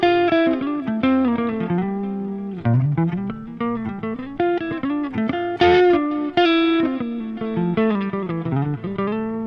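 An electric guitar played through a Neural DSP plugin plays a flowing melodic line drenched in reverb, notes ringing into each other with a spacious, washed-out tone.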